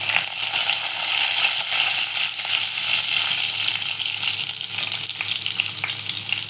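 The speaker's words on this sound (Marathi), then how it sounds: "मग आपण त्यात टाकूया कढीपत्ता." Curry leaves hit hot oil for a Marathi moong dal amti, giving a loud, steady crackling sizzle that holds throughout with no talking.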